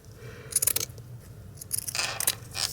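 Scissors cut through burlap in two rough snipping bursts, crisp and close, separated by a short pause and set over low background noise.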